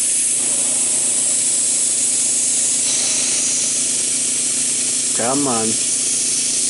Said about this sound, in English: just spray your airbrush a little bit on your scrap paper until you can get all that paint or that water kind of cleared out